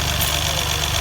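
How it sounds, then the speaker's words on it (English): A Mahindra TUV300 engine runs steadily with turbocharger whine mixed into a dense, continuous mechanical drone and hiss, close up and unbroken, with no talking. "you can hear the turbo starting, right? Observe carefully the whining sound."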